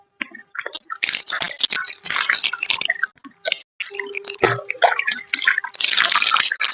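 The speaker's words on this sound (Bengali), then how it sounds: "প্রথমে কলটা দিয়ে দিচ্ছি" Water splashing and pattering from an outdoor tap where hair is about to be washed, coming in uneven bursts with short pauses between them.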